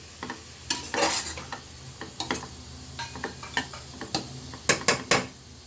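Vegetables with coconut and green chilli sautéed in a pan for avial, a South Indian mixed vegetable curry, heard as a soft sizzle under irregular scraping and clinking strokes of a spoon against the pan.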